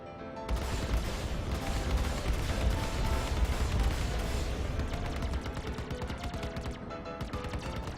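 Ship weapons fire in Star Citizen from a small Origin Jumpworks spacecraft, a dense, continuous barrage of rapid booming shots with a heavy low rumble, holding steady for several seconds before thinning slightly.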